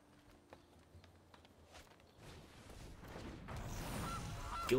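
Goose honking when the Gilded Goose card is played in Magic Arena, brief honks over soft footstep-like taps, with a louder burst of sound toward the end.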